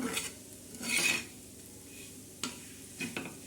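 Sesame chutney stirred and roasted in a pan, with a faint sizzle under soft scraping stir strokes, one louder swish early and a few brief clicks later, close and quiet with no talk.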